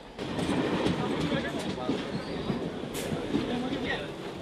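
A commuter train rattles along its tracks in Mumbai, with a continuous dense rumble and clatter from inside the carriage and voices talking over it.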